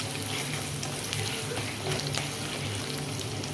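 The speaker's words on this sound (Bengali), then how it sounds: "পেঁয়াজটা একটু লাল লাল করে আগে একটু ভেজে নিই" Chopped onion fries in a pan, giving a steady, moderate sizzle and crackle with a few brief stirring clicks and scrapes, and no voices.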